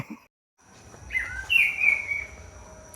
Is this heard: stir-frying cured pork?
no